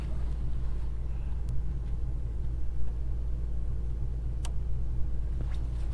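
A truck engine runs at idle with a steady low rumble, parked outdoors beside a crank-up trailer during a winter field day, with faint ticks and clicks over the drone.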